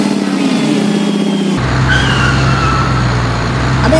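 A car is driven in the video game PUBG, its engine droning loudly and shifting pitch after a jolt partway through, with tires scraping and skidding under the steady motor hum.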